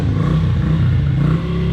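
A barn-find Honda engine that sat eight years runs steadily with the choke off, a loud, close, continuous low rumble and clatter with no talk over it.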